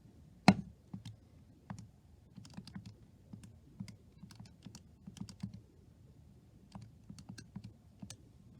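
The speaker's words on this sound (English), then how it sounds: "let's just type these numbers into our calculator to figure out what that is." Keys on a calculator are pressed in irregular bursts of light plastic clicks and taps, close and quiet, starting with one sharper knock and then steady intermittent tapping with short pauses.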